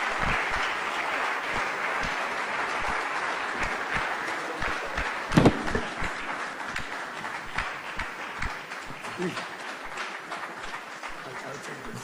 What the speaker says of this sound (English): A big round of applause for the Honorable Minister